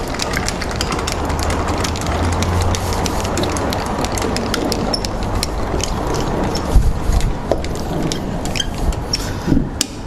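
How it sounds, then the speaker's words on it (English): Winch on a SUV Campers GT Mega Slideout camper trailer being locked into place, a steady mechanical rattle and ratcheting clatter with a few sharper metallic clunks near the end, close and continuous. "Locking your winch into place."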